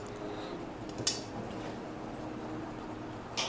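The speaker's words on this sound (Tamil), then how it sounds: "நான் பிளாக் கலர் பேரிச்சம்பழத்தை மிக்ஸ் பண்ணுறேன்" A spoon clinks lightly against a bowl while black dates are stirred into a vanilla fruit custard, with one sharper clink near the start and another at the end over a quiet, steady background.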